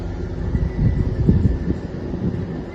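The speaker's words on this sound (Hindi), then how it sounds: "और ये चल रहा कूलर," A household air cooler runs steadily indoors, a continuous low fan rumble and whoosh with wind-like noise, moderately loud and unbroken with no talk.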